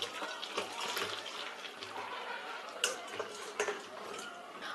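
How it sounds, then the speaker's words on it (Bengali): Water draining off boiled jackfruit pieces just taken from a pressure cooker, a steady splashing trickle with a few brief clinks, close by and moderately quiet, with no talk. "এবার আমি এঁচোড়টা একটু জল ঝারিয়ে নিচ্ছি।"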